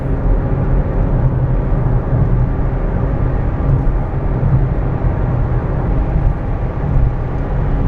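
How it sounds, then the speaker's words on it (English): A Toyota Aygo cruising on a UK motorway produces a loud, steady low-pitched cabin drone of engine and road noise that holds constant with no breaks. "just like that, we're on the motorway"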